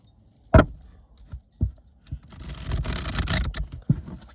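Tarot cards being shuffled, giving a few sharp rustling snaps early on, then a dense, sustained riffling burst near the middle before one last flick, all close and moderately loud with no voices.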